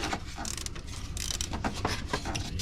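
Ratchet with a 16 mm socket working a part loose on a BMW E9X, giving a dense run of close, rapid metallic clicks and creaks that continue for about two and a half seconds.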